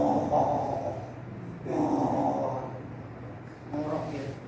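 A voice imitates snoring with three rough, snorting breaths, each about a second long and separated by short pauses, loud and close.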